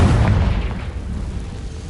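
A Confringo blasting spell explodes in Hogwarts Legacy, giving a loud, deep boom that hits at once and decays into a rumbling tail over about two seconds.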